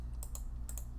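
Two pairs of quick mouse clicks on a computer, crisp and close, heard alone over a low steady room hum with no talking.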